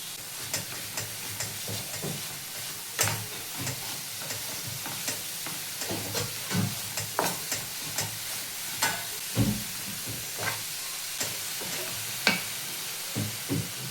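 Modak filling of fresh coconut heats in a pan over a low gas flame, giving a steady sizzle and hiss, with repeated scraping and stirring strokes close by throughout.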